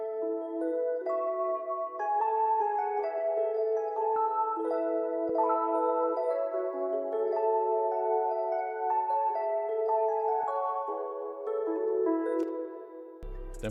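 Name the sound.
Rhodes electric piano from Champions analog lab kit, copied chords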